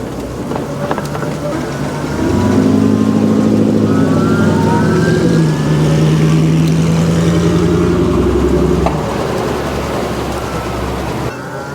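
An electric motor on a CyberX bike converted into an electric motorcycle gives a loud, steady whine that swells in for about six seconds of riding, then drops back to a quieter hum, with no talk over it.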